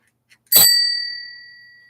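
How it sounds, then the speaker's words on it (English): Notification bell sound effect: a single bright ding, preceded by a faint tick, ringing out clearly and slowly fading over more than a second. "That's right, the notification bell"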